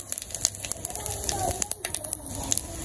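Cumin seeds tempering in hot oil in a village kitchen, giving a steady close crackle and sizzle with scattered pops throughout, alongside faint background voices.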